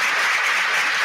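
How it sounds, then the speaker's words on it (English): Sustained, dense applause from an audience honoring awardees at a ceremony, a steady wash of clapping with no pauses and no voices rising above it. "I would also like to ask a round of applause for all our awardees"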